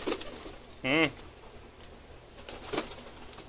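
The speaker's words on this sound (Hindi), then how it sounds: "ये शर्मिला कबूतर है मेरा।" A single soft, throaty coo from a Pakistani pigeon rolls out briefly amid faint background noise and rustling, with quiet stretches around it.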